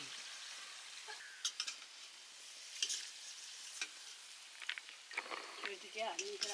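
Ingredients frying in a pan of hair oil with a soft continuous sizzle, punctuated by stirring scrapes and clinks, while people talk nearby.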